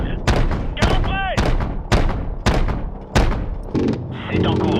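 Repeated heavy booms of cannon fire in Call of Duty: Modern Warfare, roughly every half second to second, with a chirping electronic tone and radio chatter mixed in.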